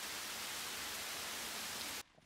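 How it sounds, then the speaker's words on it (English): Heavy rain pours steadily in an animated children's cartoon, a dense, loud, unbroken hiss that fills the clip, then drops away sharply near the end. "Wow, it's really raining."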